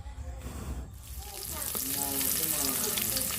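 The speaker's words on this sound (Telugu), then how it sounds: "ఉల్లిపాయ టమాటా పచ్చిమిర్చి అనేది బాగా ఫ్రై అయింది కదా" Onion, tomato and green chili frying in a pan on a gas stove for egg keema fried rice, the sizzle swelling from quiet to a steady, bright crackle.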